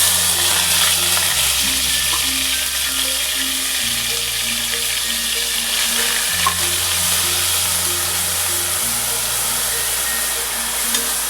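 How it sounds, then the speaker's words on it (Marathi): Chopped onion sizzles steadily in hot oil inside a pressure cooker while biryani masala is being made. The frying hiss stays close and continuous, with faint stirring and a soft melody underneath. "त्यासाठी सर्वप्रथम मी कांदा टाकणार आहे"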